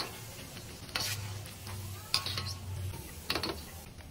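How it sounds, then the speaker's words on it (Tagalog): Small cubes of tofu fry in oil toward crispness, a faint low sizzle under a humming background, punctuated by a few sharp utensil clacks and stirring knocks. "prito lang natin ang ating tukwa na talagang hiniwa natin na medyo maliliit"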